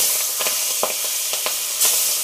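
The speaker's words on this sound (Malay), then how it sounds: "so kita boleh ambil ni masukkan terus kita goreng" Walking catfish sizzles and crackles in hot oil, with a steady hiss broken by sharp pops and spatters.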